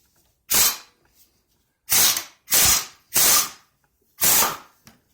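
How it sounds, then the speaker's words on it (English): Five loud, separate bursts from an impact wrench, each under a second, hammering loose the blade bolts on a Troy-Bilt 21-inch push mower, with brief quiet gaps between them. "I'll use an impact to take these off"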